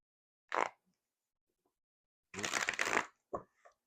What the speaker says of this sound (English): we're gonna get a few more shuffles